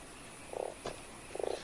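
A frog in the video game Fran Bow gives two short, raspy croaks a moment apart, clear against a quiet backdrop, with a faint tap between them.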